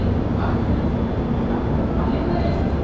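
Locomotive of the Bangalore-Chennai double decker AC express train, a steady rumbling hum close by, heard continuously under someone talking.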